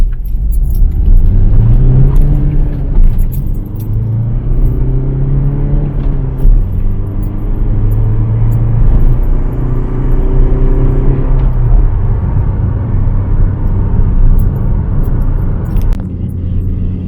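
A Vauxhall Astra CDTI diesel accelerates hard from 0 to 60 mph, heard loud from inside the cabin, with the engine note rising through several gears in repeated climbing sweeps before settling into a steady road rumble.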